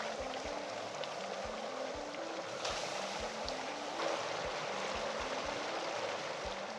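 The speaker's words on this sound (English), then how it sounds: "These are going to boil like crazy when we put them in." Objects boil violently in liquid nitrogen during a cryogenic demonstration, a steady, dense hiss and bubbling roar that stays constant throughout, faint and close with no talking.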